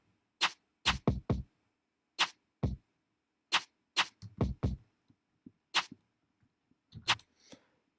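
Sharp snare hits from a GarageBand trap beat, a dry, sparse pattern of crisp cracks in short clusters, heard alone without other instruments.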